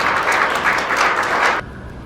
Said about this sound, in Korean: 김형렬 회장님을 큰 박수로 환영해 주시면 감사하겠습니다